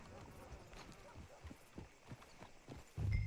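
A horse's hooves clip-clop in a video game, a loose run of distinct hoof strikes under light background sound, ending in a brief louder low rumble.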